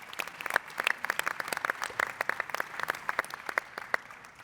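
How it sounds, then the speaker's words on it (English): Audience applause for everyone at a live conversation event, many hands clapping with crisp individual claps standing out in a dense, lively patter that holds steady for several seconds. "so a big round of applause for everyone"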